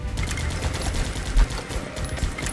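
Gunfire from the video game Guns Up, a dense rapid stream of shots with one louder burst near the middle, under continuous game noise.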